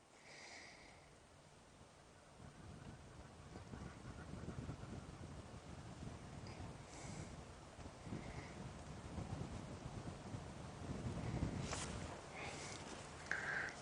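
Steady outdoor wind rumbling and buffeting a microphone on an evening safari drive in the African bush, a low continuous roar that swells in gusts, with faint distant birdcalls above it.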